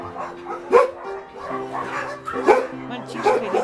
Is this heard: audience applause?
no